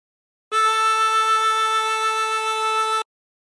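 A single sustained chromatic harmonica note, drawn by inhaling through hole three with the slide button released, sounds alone, steady and close for about two and a half seconds.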